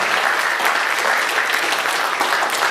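A room full of people at a campaign event breaks into applause, thick continuous clapping heard close and loud throughout.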